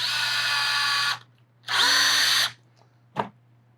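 A Festool C18 cordless drill whirs loudly in two bursts of about a second each, followed by a brief clunk, with a low hum throughout.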